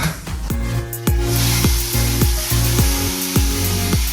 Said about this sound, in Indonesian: bumbu halus yang sudah jadi, kemudian tumis